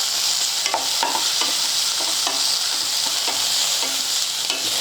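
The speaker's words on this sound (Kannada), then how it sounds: "ಇದೆಲ್ಲ ಚಲೋ ಹೊತ್ನಾಗೆ ಮಿಕ್ಸ್ ಮಾಡ್ಕೋತೀನಿ ರೀ" A tempering of green chilli, cumin and turmeric sizzles steadily in hot oil while a spoon stirs and scrapes the pan in regular strokes, close and fairly loud, with no voices.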